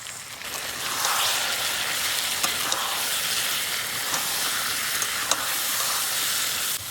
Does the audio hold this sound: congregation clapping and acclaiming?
no